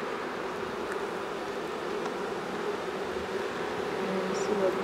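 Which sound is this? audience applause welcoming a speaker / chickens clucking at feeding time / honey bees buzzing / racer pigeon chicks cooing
honey bees buzzing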